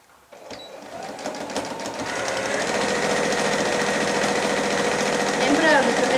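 Sewing machine stitching a shopper bag seam with a reinforcing backstitch, a close rapid mechanical whir that starts after a moment and runs steadily throughout.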